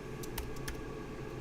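Typing on a computer keyboard while programming, a few crisp key clicks in a quick cluster near the start over a low steady room hum, no voices.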